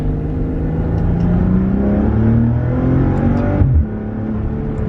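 A Maserati Quattroporte S Q4 with an 8-speed gearbox pulls hard in second gear under paddle-shift control, its engine note rising in a loud, steady, close drone before the pitch drops sharply with an upshift.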